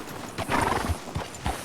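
Horse hooves clip-clopping on a town street outside a sheriff's office in Red Dead Redemption II, a few close, irregular steps with a brief whinny-like tone, no talk.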